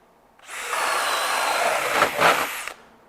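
A DeWalt DCD805 hammer drill bores a hole with a 1.5 inch self-feeding spade bit, a loud, sustained whine lasting about two seconds that bogs slightly near the end before stopping abruptly.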